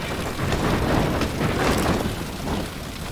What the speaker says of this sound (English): The rain's still quite strong.